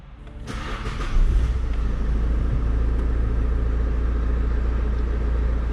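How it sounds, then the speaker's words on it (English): An Opel Meriva car starts moving on a test drive after rear wheel bearing replacement, its engine and road rumble rising and then holding a loud, steady drone from inside the cabin. "The vehicle is on the ground, so now I'm going to do a test drive."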